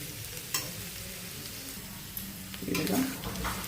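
Diced potato for a Marathi fasting-day bhaji sautéed in a pan, giving a steady low sizzle throughout, with louder scraping and stirring near the end, close up and without talk.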